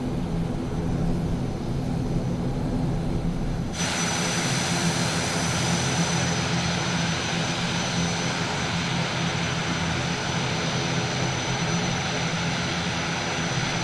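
ATR-72-600 turboprop airliner departing in Microsoft Flight Simulator, a loud continuous engine and propeller roar with a steady high whine, the sound shifting abruptly partway through and then holding steady.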